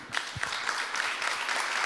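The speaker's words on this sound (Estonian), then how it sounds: "Teeme suure aplausi neile, viimastele esinejatele." An audience claps for performers at a school Christmas party in a gymnasium, a brisk, steady round of applause from a moderately sized crowd, close and continuous without voices.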